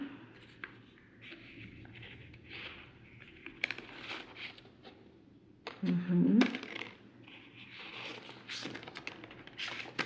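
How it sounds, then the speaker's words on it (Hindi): Three tarot cards are drawn from a deck, with faint sliding and tapping of cards and a few soft clicks, close but quiet, over light background noise. "so I'll just pull 3 cards from here."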